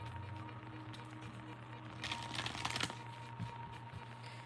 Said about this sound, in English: Y'all seen me shuffle like 3 times.